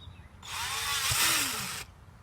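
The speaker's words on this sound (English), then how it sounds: "drill a hole as close to the bottom of your bucket as you could possibly get it" A power drill bores through the side of a plastic bucket near its base, a steady high whine lasting about a second and a half, close and loud, cutting off abruptly.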